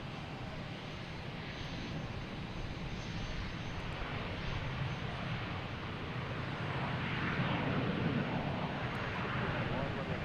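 An Aeromexico airliner at Boston's Logan Airport gives off a broad, steady engine roar that swells slightly toward the end, heard from a distance over a constant wash of noise.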